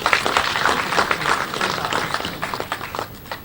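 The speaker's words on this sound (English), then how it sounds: "May we give them a round of applause?" Audience applause fills a conference room, dense scattered clapping from many hands at steady loudness for a few seconds, fading slightly toward the end.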